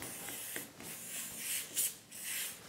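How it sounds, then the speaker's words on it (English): Faint hissing bursts come from spraying brioche baking moulds in a home kitchen, several short sprays with quiet gaps between them, set against a low background with no talking. "spray our moulds"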